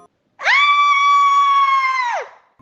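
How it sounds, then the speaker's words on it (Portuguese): A thin, high-pitched scream rings out from a bedroom, one sustained cry of about two seconds that starts abruptly and trails off downward, loud and alone against silence. "Quando ouvi um grito fino do quarto"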